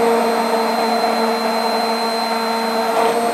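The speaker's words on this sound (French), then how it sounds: "Maintenant, on va mixer le mix." Blender whirring steadily and loudly, blending an ice cream base with added chocolate, a constant close tonal whine for the whole moment.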